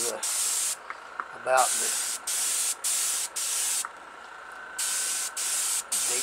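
Testors Aztek airbrush spraying acrylic paint onto a Larry Griffith Super Stock model car body, steady close hissing bursts repeated with short pauses between, a brief voice heard once.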